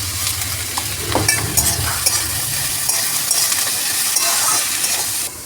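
Sliced potatoes and bitter gourd frying in a pan for a Bengali chorchori, a close continuous sizzle with clattering stirring knocks early on, no talking.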